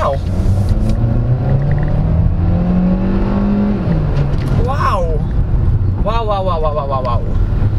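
A turbocharged 2024 Kia Seltos SX accelerates at full throttle, its engine drone rising steadily in pitch under loud cabin rumble, then easing off; a person speaks with excitement over the engine.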